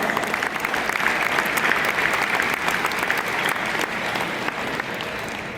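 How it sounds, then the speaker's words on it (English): A roomful of coaches at an Ohio high school basketball coaches clinic gives a round of applause, loud and dense clapping that holds steady and then eases slightly toward the end. "Give these guys a good round of applause."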